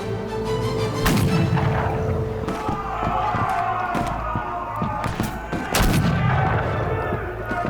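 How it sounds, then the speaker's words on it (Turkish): Gunpowder explosions and gunfire in a Turkish period TV drama set in Kalimnos boom heavily, with repeated loud blasts and sharp shots layered over a dense rumbling battle din. "Efendim her yerde barutlar patlıyor."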